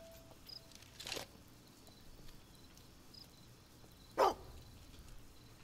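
A dog in the Fable II video game gives two short, separate barks a few seconds apart over a quiet background.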